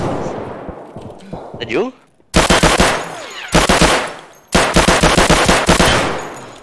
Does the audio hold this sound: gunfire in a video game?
yes